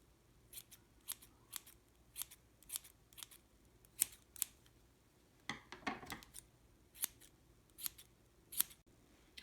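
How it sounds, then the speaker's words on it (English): Sharp, rhythmic scissor snips trimming the long strands of a yarn pom-pom for a crocheted chunky beanie, about a dozen close, crisp cuts spaced through the stretch with a brief rustle of yarn in the middle. "Now you're just going to give it a little trim. Just cut all those long pieces to make it more of a ball shape."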